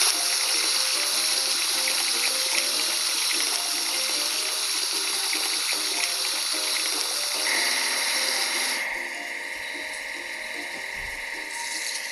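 A steady, loud hiss of spraying water washing a toy digging machine, with a mechanical whir underneath that changes tone near the end.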